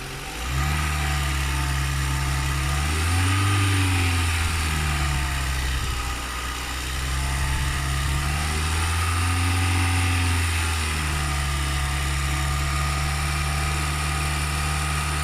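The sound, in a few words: car engine revving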